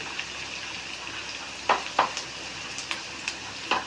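Garlic, ginger, green chillies and curry leaves with salt sizzle in a pan for an egg curry, a close, steady hiss broken by a few sharp scraping stirs.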